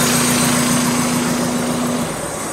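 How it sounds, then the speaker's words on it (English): A Mazda Miata engine runs with a cylinder 3 misfire, making a loud, close, continuous idle drone with a steady hum that fades slightly near the end. "Nope, cylinder 3 misfire."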